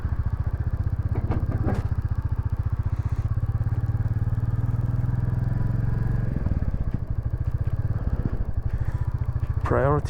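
Motorbike engine running out on an open road through lakeland dales, a steady close rumble sustained throughout with brief clatter and thumps, and a voice speaking over it.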